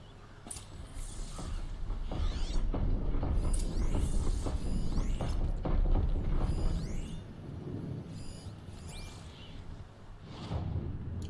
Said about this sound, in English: the machine looks as fast as it is loud